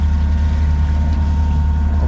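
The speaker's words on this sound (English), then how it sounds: "Obviously the engine's going" A sailboat's engine runs steadily while motoring under way in very light wind, a loud constant low drone with wind and water hiss over it, no talk.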